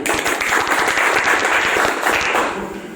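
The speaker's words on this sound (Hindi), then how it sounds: "इनके लिए एक बार जोरदार तालियां" An audience claps in a loud, dense burst of applause that stays steady for the whole short stretch before easing slightly at the end.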